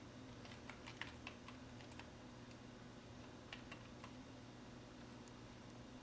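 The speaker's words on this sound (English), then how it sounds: "start typing" Keys clatter on a computer keyboard as text is entered in Photoshop, a steady run of light, irregular clicks with small bursts, fairly close against a faint hum.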